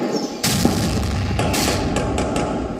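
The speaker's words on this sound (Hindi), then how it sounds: "इसके बाद धमाके और फायरिंग की आवाज।" Gunfire and blasts ring out during a shootout between police and CRPF and militants positioned on rooftops and lanes in Jammu and Kashmir, with sharp broadband cracks near 0.4, 1.4, 1.5 and later 2.0–2.4 s over a constant loud rumble.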